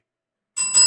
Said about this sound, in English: You want me to hit ring the bell? Ring the bell, baby.